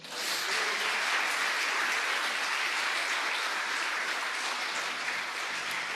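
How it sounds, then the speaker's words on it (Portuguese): A church congregation applauds at a worship celebration, a dense, steady wash of many hands clapping that holds evenly for several seconds with no voices on top. "vamos aplaudir Jesus?"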